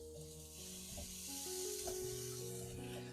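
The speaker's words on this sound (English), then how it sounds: "I'm going to be cooking our sausage" Sausage fries in a pan for a Cajun seafood boil, a soft, steady sizzle that is fairly faint, with gentle background music over it and no speech.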